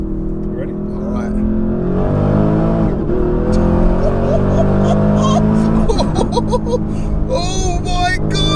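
Porsche Cayenne Turbo GT engine revving and pulling hard, a loud rising roar with climbing pitch sweeps heard from inside the SUV, while people talk and exclaim over it.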